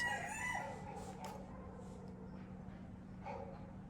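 A rooster crows faintly in the distance over a steady low hum, with a few soft clucks.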